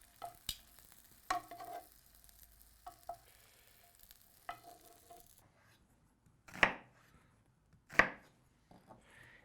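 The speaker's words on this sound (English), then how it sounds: "we're going to cut the onions into big chunks so that's the same shape as the sausage" Onions are cut into big chunks with a knife on a board, giving irregular sharp chopping knocks with short pauses, the last two strikes louder, in a quiet kitchen.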